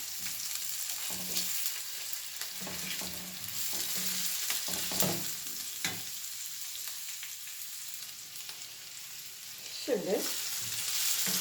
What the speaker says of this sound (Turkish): Daha sonra da pirincini aynı bir şekilde biraz onu da kavuracağım.